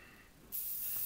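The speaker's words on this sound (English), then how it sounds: "quite far away with the airbrush, we just spray down" An airbrush spraying grey primer onto a miniature starts abruptly halfway through, a steady close hiss after a quiet moment.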